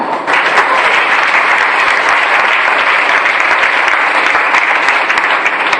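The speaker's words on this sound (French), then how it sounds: "Tu mérites de t'acclamer toi-même." A church congregation applauds at a French-language worship service, a dense, loud, sustained clapping that holds steady throughout with no break, heard close and filling the space.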